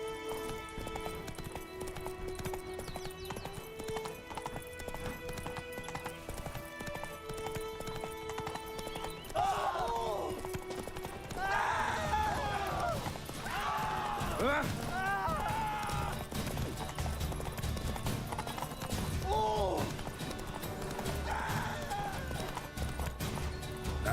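Video game horse Roach galloping with rhythmic clip-clop hoofbeats and a whinny, heard under continuous game music and effects.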